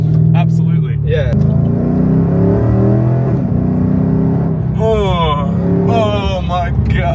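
SSV Redline car in a racing video game accelerating hard, its engine droning loudly and climbing through rising revs with repeated upshifts, while excited people talk over it throughout.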